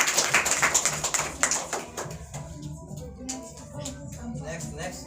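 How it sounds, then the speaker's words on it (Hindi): Schoolchildren in a math quiz class clap for a correct answer, a burst of rhythmic group clapping that fades after about two seconds into light scattered taps and murmuring voices. "चलो इसके लिए ताली।"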